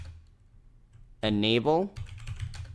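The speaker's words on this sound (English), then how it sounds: "we're going to type in systemctl" Fast keystrokes on a computer keyboard while a server command is entered, a brief quiet patter under a man's spoken word.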